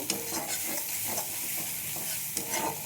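Fish curry with raw mango sautéing in oil, a steady close sizzle and frying hiss with soft scraping stirs now and then, no voices.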